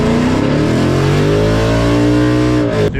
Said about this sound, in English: turbo flutter.